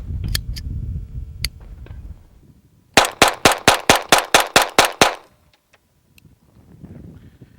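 A Chiappa 1911-22 pistol fires on an outdoor range: a rapid, evenly spaced string of about ten sharp cracks, loud and close, with a few scattered shots and low background noise before it.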